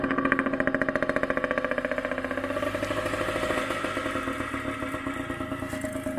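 A stone-cold, stock Suzuki TS 50cc moped fires up and settles into a steady, rapid two-stroke idle with clattering mechanical ticks, running alone and close with no talk.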